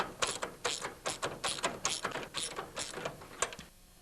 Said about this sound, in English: with your deep socket just tighten up the lock nut